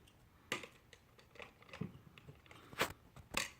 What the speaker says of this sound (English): is just to cut these wires.